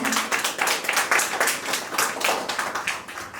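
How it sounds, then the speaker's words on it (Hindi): Applause from a crowd at a company pre-launch event in India, steady hand clapping that holds for a few seconds before starting to thin out. "जोरदार तालियों से स्वागत करें।"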